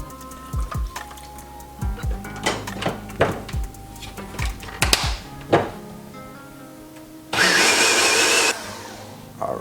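A kitchen blender purees boiled chilies with their cooking liquid, whirring loudly in one steady burst for about a second after a run of knocks and taps from handling the jar and lid.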